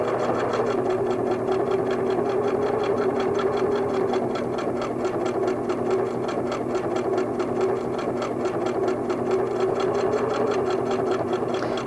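A Singer sewing machine stitches steadily around a quilt border, its needle producing a fast, even, continuous mechanical chatter with a low motor hum, close and loud throughout without pause.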